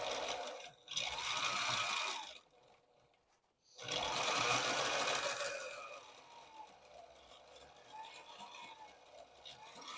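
A sewing machine stitches a seam on a tote bag made from old sail material, running in two close bursts with a short pause between, then easing to a quieter, slower hum.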